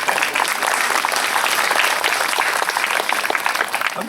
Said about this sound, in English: Give yourselves a round of applause out there.